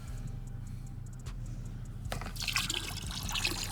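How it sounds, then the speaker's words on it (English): Old fuel draining and splashing out of the tank of an abandoned Ducati motorcycle under restoration, a steady trickle that swells into a louder, close pour with spattering liquid in the second half, over a low background hum. "We can drain the fuel tank out"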